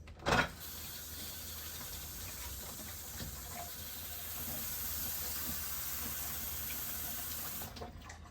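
Vegetables are rinsed under a running kitchen tap, a steady hiss of flowing water from start to finish, heard close with a few soft knocks and no talking.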